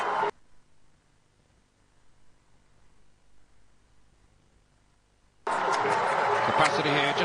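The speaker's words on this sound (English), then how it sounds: "The crowd still coming in." Stadium crowd filling in before a Saudi league football match between Al-Raed and Al-Nassr, a broad crowd roar heard in bursts at the start and end with a quieter stretch between.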